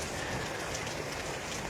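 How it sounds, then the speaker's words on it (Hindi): Heavy rain pours steadily over Doda district, a dense, continuous hiss of downpour with no break and no voices over it. "इतनी जो तेज़ बारिश है"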